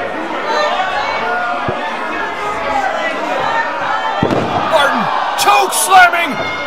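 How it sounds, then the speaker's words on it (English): Wrestler slammed off a ladder during a ladder match, giving a few sharp thuds and impacts over steady arena crowd noise and commentary-like talk. "Slamming the swagged out champ off the ladder."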